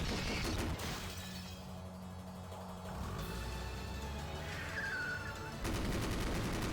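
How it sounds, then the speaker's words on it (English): Gunfire from the video game Rose Guns Days, with dense bursts of shots rattling through a busy, noisy battle mix that holds fairly loud throughout and swells again near the end. "trucks filled with Caleb's underlings raced forward, covering the front gates of the graveyard with gunfire"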